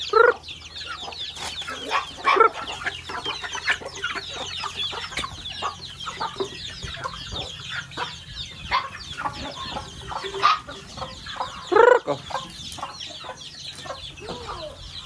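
Chicks and hens clucking and peeping while pecking at feed in a farmyard, a busy continuous chorus with occasional louder calls, and some voices talking faintly in the background.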